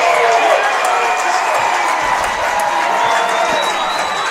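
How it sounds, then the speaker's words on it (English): The home crowd at a McMinnville Grizzlies high school football game cheers and claps after a touchdown. The roar is steady and sustained, with scattered whoops and announcer-like talk faintly underneath. "Getting something to cheer about here late in the ball game, and good for them."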